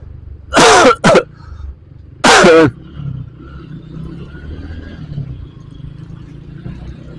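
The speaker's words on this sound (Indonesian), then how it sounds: "Batuk." A rider coughs loudly three times, two quick coughs then a longer one, close to the microphone, over a low, steady road and engine rumble from a motorcycle on an evening ride.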